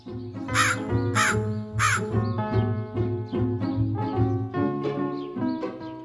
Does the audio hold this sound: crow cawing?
yes